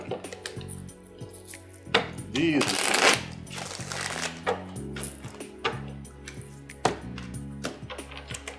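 A deck of tarot cards being shuffled in a few quick riffling bursts, close and fairly loud, with a voice speaking before and around the shuffling.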